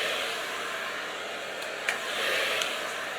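A blow dryer runs steadily at close range while a brush works through a blunt-cut hairstyle during a flat, low-volume blow dry, the whir holding constant with a couple of faint clicks and no talking.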